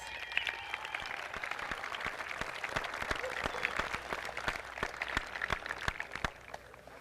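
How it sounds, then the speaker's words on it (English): Outdoor crowd at the Kennedy Space Center ceremony for Space Shuttle Atlantis's final move applauds honorees, steady moderate clapping with sharp individual claps standing out against a background hum. "Let's give them a round of applause."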